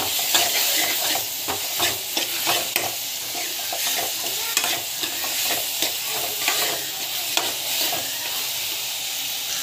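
Asafoetida sautéing in a hot pan, a loud steady sizzle with repeated scraping stirs from a spoon, close and continuous with no talking.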